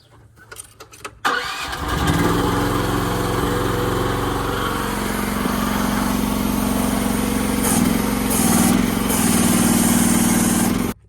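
Chinese mini excavator engine cranked and started, a brief starter whir followed by the engine catching and settling into a loud, steady, continuous idle that runs for the rest of the clip.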